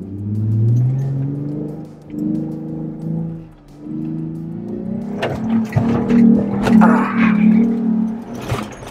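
Car engine revving and accelerating across bumpy desert sand past clumps of camel grass, a steady mid-pitched drone that swells into harder, louder revs with rattling jolts toward the end.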